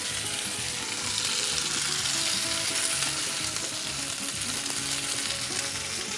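Ginger paste and turmeric powder frying in oil for a Bengali kalia, a steady, dense sizzle close up with occasional stirring scrapes, no voices over it.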